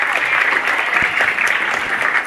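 Students at a school election applaud a candidate, a dense steady burst of many hands clapping at close range with crowd murmur underneath.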